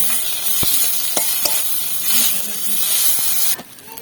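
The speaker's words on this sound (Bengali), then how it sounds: "এবার আমরা মশলাটাকে ভালো করে কষিয়ে নিচ্ছি আরো কিছুক্ষণ।" Ground spice masala of coriander powder sizzles steadily in a hot pan while being sautéed, a continuous close hiss broken by a few sharp stirring clicks, with no talking.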